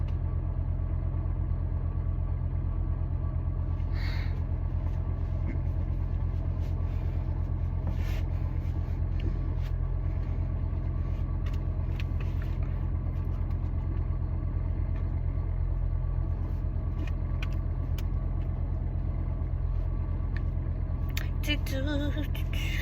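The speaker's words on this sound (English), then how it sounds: "that really is my car making that noise" A car on the road makes a constant low rumbling drone from inside the cabin, steady throughout with a few faint clicks and rattles over it.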